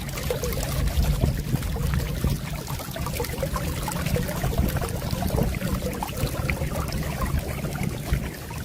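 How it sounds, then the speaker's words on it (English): Steady rushing and splashing of running water from a French drain outlet during flash flooding, a continuous close pour with a low rumble underneath and no voices. "What is it about running water?"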